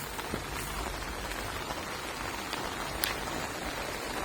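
Steady rain falls on a surface, a dense constant patter with a few louder drops standing out, no voices.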